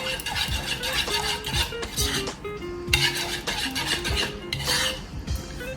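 A spoon stirs and scrapes inside a glass or bowl of fruit cocktail float, with soft clinks and rasping rubs in an uneven rhythm, fairly quiet and close, with faint background sounds.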